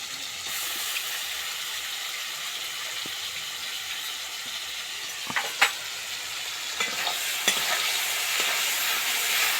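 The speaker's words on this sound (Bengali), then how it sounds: "আদা রসুনটা ভাজা হয়ে গেছে" Ginger garlic paste fries in a wok with a constant close sizzle, broken by a few sharp scraping clicks of stirring around the middle, and no voices.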